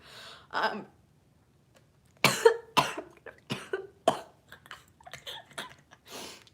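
A series of short, sharp coughs, one early then a rapid cluster, close and fairly quiet, followed by smaller throat noises.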